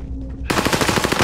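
Rapid automatic gunfire from Call of Duty: Modern Warfare bursts in loud and close after a brief quieter moment, a fast, tightly spaced rattle of shots.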